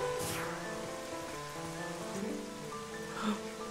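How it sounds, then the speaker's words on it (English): Steady rain falls in the video game Twilight Princess HD, a soft continuous hiss of drops with sustained musical tones playing over it at moderate volume. "I just hate the rain"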